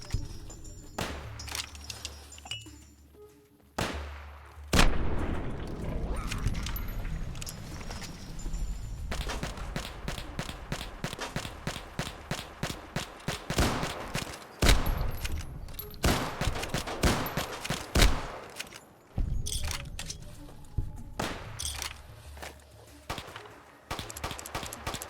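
Fallout New Vegas gunfire in a modded game, with rapid bursts of sharp repeated shots, steady volleys in the middle and more spaced single cracks later, loud and dense.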